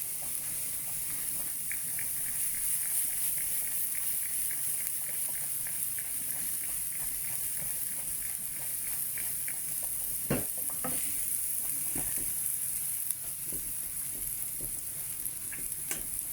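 Pasta cooks in a pot on the stove with a soft, constant sizzling hiss and light stirring scrapes. It stays faint and steady throughout, with a few louder clunks partway through.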